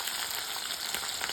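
Garlic frying in hot oil for a kara kuzhambu, giving a steady, dense sizzle that stays even and close throughout, with no voices.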